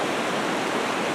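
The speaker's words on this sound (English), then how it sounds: "the water behind me goes upstream here" Water flowing steadily near the site of an old mill, a close, continuous broadband rush like a stream or small weir, with no talk over it.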